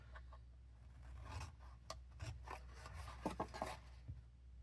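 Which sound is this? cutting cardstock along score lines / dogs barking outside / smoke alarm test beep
cutting cardstock along score lines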